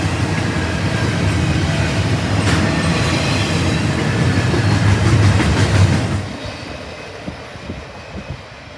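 A freight train pulled by GE Evolution and AC-series locomotives rolls past a depot, a loud close rumble with clattering wheels that suddenly drops away after about six seconds, leaving faint knocks.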